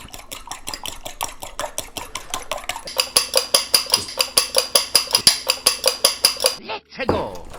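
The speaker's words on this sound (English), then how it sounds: "So just grab a fork, mix it up." Eggs whisked briskly with a fork in a bowl make a fast, steady run of sharp, close clinks, roughly four strokes a second, that grow louder midway before stopping abruptly, with no voices.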